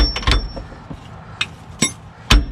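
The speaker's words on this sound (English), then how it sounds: "Now you could attempt beating this out with a hammer" Sharp metallic hammer blows strike a Sprinter van's rear differential pinion bearing, four or five irregularly spaced clanks ringing close and loud in a workshop.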